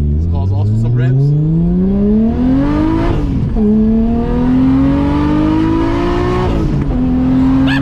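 A Nissan Skyline R33 GTR tuned to 800 HP revs hard close by. The loud engine note climbs steadily in pitch, drops briefly at a gear change, then climbs again.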